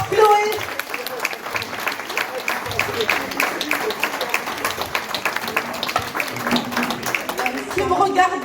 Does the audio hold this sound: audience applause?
yes